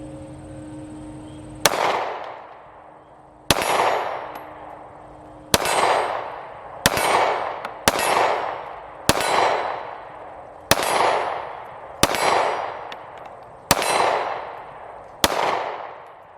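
Firearm shots at an outdoor gun range, ten sharp loud reports fired one at a time at a steady pace roughly every one to two seconds, each with a ringing decay, with no talking.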